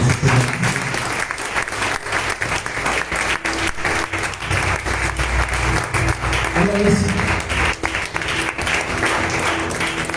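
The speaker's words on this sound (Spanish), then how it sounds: "Dale un aplauso al Rey de Reyes." A church congregation breaks into loud, continuous applause for the King of Kings, dense clapping with shouts and voices mixed in throughout, close and unbroken for ten seconds.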